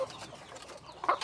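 Pet chickens cluck softly nearby in a short burst, a few quiet clucks and chatter with one slightly louder call at the end.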